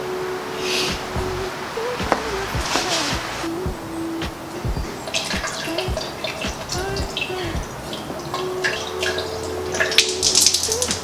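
Water runs and trickles continuously as an engine cooling system is flushed and filled, with gurgles and splashes, occasional clanks and a low hum beneath, at close range.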